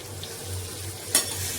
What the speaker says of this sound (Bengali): এবার আমি দেবো গরম জল।